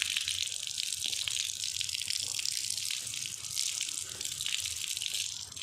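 Bilimbi fruit being washed under running water: a steady, close splashing rush of water continues throughout with slight rises and falls, with no talking.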